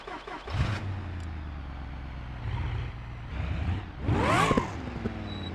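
A Hawk car with a wheelie bar fitted starts up and revs in BeamNG.drive, its mid-pitched engine rising and falling with a sharp surge near the end, heard clearly on its own without talk.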